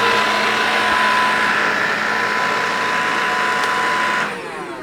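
A Bosch BBH3ZOOGB 28V cordless vacuum cleaner runs with a steady, loud motor whine and airflow hiss that holds evenly, then drops to a quieter level near the end.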